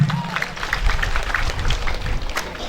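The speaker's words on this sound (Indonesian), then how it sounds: "Tepuk tangan untuk kita semua." Loose, moderate clapping from a crowd at an outdoor gubernatorial campaign rally in an Indonesian town square, uneven and somewhat distant, with voices mixed in.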